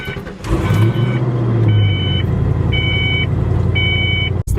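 A Ford Foxbody Mustang convertible engine cranks and catches, then settles into a loud, close idle, with a repeating electronic chime beeping over the running motor.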